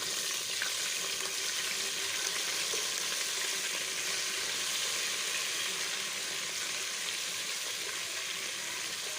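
Ginger garlic paste and garam masala fry with onions in hot oil, giving a steady, dense sizzle that stays even and close throughout with no speech.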